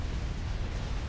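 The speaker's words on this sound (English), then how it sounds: "I heard explosions." Battle explosions from the strategy game Supreme Commander in a 5v5 custom match: a dense, rumbling wash of blasts with no distinct gaps, filling the short stretch without any voice.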